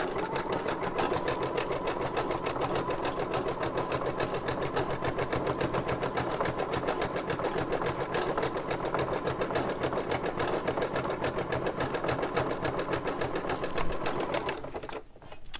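A sewing machine runs a zigzag stitch across a belly band made from book pages, a fast, steady mechanical chatter that continues without pause and stops near the end.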